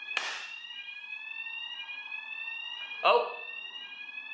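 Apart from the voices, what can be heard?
fire alarm going off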